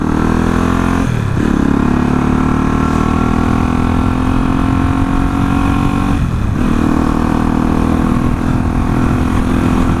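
A motorcycle engine drones loud and close through a group ride on a cool, overcast day, holding a steady rumble with two clear gear shifts where the pitch drops and climbs again, with wind noise throughout.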